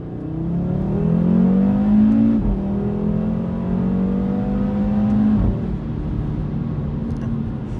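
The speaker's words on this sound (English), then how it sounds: "this is just such a nice adventure to accelerate in this car" A 2018 Audi RS3 Sportback engine revs up and accelerates steadily, its pitch rising twice in long sweeps, loud and close with no talking.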